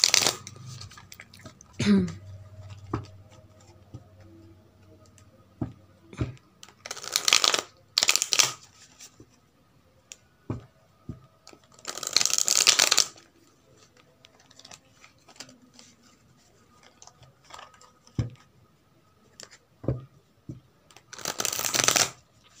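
Tarot cards being shuffled in several bursts of crisp riffling and flicking, close and fairly loud, separated by quieter handling, tapping and small clicks, with no talking.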